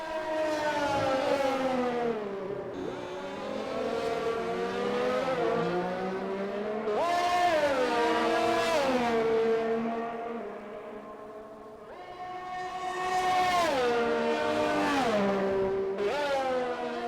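Race cars in an F1 racing game at the Netherlands circuit, high-pitched engines rising and falling through gear changes in repeated sweeps, loud and sustained with no talk.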